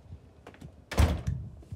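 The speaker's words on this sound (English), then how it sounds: "open up this door" A door is opened at a grocery store, giving one solid thunk near the middle followed by a softer knock, set against faint background movement with no talking.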